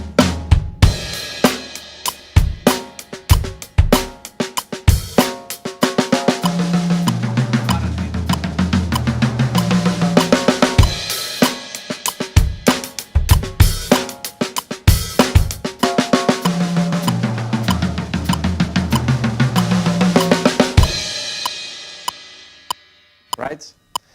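Acoustic drum kit playing a steady groove broken by paradiddle fills shifted across the toms, with sharp hits, dense cymbals and rolling low tom strokes in two long phrases, loud and close, ending in a fading ring.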